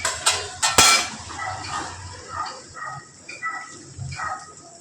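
A lid lifted off a pot of crab curry, with a few sharp metallic clanks up front followed by softer clinks and rattles, close and moderately loud.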